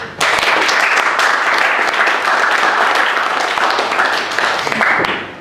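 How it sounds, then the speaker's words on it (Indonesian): A crowd at a university seminar session claps in dense, steady applause that starts abruptly, holds loud and even for about five seconds, then tapers off. "Mari kita tepuk tangan untuk"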